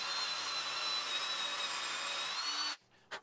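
A power drill bores a hole into the bottom of a wooden ping pong table leg to take a leveling-foot insert, whining at steady high speed for nearly three seconds before stopping abruptly, followed by a brief clatter.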